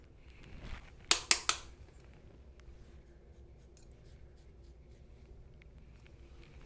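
Thinning shears snipping through hair during a blending haircut, giving three quick close crisp snips in a row, then a quiet room.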